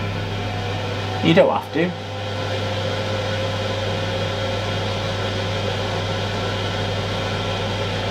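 An air fryer warming up hums with a steady, even whir and a low mains drone throughout, close and continuous, while a voice briefly speaks early on.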